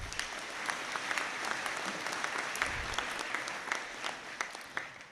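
Applause rises from an audience at a university conferring ceremony after graduates in agriculture are named. The clapping is steady and moderately distant, with a few sharper individual claps standing out over roughly five seconds.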